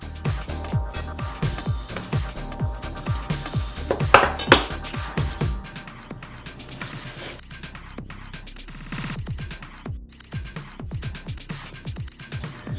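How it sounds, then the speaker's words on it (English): Knife chopping pitted olives on a cutting board for a Chilean pastel de choclo, with a steady run of close, sharp taps that turn quicker and lighter after a brief louder clatter. "all you want to do is basically pit them, get the pit out, and just finely chop them up."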